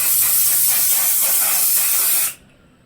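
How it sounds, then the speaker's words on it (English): One Size satin setting spray mists onto a face in one long, loud, close hiss lasting about two seconds, then cuts off abruptly into quiet. "back in with the One Size satin spray"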